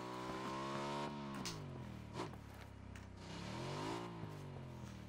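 A motorcycle engine in PUBG on Xbox One revs up and down in a steady, droning harmonic whine, pitch rising and falling with throttle, loud and close throughout with no talk.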